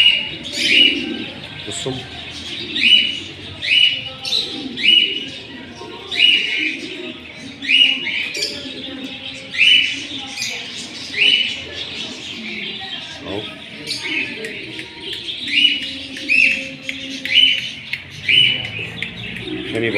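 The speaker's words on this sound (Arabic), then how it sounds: "احنا مش مسايبين الحمام كله، احنا بنفرجه اهو." King pigeons in a loft give repeated soft coos and short chirps in a steady rhythm, with a voice speaking briefly nearby.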